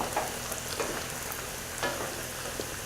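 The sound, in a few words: stirring lentils in a pot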